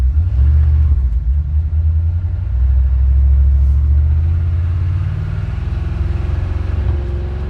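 A 1940 Chevy truck cruises at about 45 mph, its engine a loud, steady low rumble heard from inside the cab, droning continuously with slight shifts in pitch and no talk.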